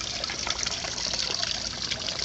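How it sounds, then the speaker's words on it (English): Pond water being collected to feed a gravity filter, a close, continuous splashing and trickling wash with no talking. "we're going to go ahead and get us some water here to run through our filter."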